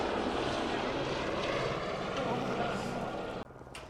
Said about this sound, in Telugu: హెలికాప్టర్స్ కూడా స్టార్ట్ అయినాయి